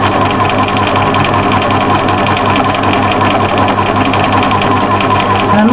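A sewing machine runs steadily while stitching appliqué flowers onto a mushroom house cushion, a loud continuous close-up whir with no pauses and no talk.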